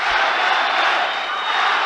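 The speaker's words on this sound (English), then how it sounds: "And the crowd cheering on Amagov" Arena crowd cheering for fighter Azamat Amagov before his bout with Irving Romero Machado, a broad continuous roar held at steady loudness throughout.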